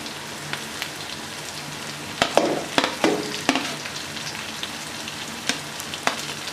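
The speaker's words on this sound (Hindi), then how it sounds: "हरी मिर्च को अच्छे तरीके से फ्राई करेंगे।" Green chillies fry with ginger and garlic in a pan, giving a steady close sizzle broken by sharp crackles and pops, with occasional stirring clatter and no voices.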